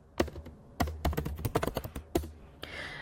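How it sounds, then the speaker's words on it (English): Typing on a computer keyboard: a quick run of close, crisp key clicks, some louder than others, and a firmer press near the end, with no talking. "I will write climate change, and then I'm pressing enter after each concept."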